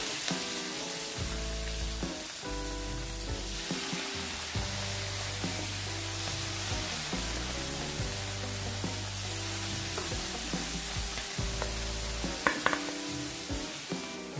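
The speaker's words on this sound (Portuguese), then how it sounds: "Vamos adicionar o nosso camarão, sem tornar aquela aguinha do fundo" Shrimp frying in a pan for a pineapple shrimp dish, a steady bright sizzle running throughout with light clatter near the end, heard under background music and no talk.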